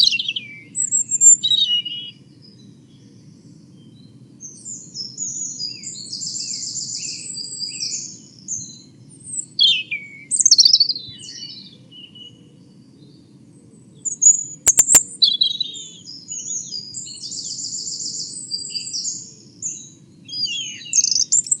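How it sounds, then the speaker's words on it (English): A robin sings in several separate bursts of high, rapid, watery warbling phrases, clear and fairly close, with pauses between them over a steady low hum. "So we'll start with the robin."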